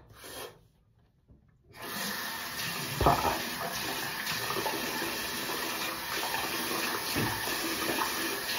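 Tap water runs steadily into a sink during a wet shave, a continuous close hiss and splash starting after a brief quiet pause, with occasional rubbing and scraping sounds over it.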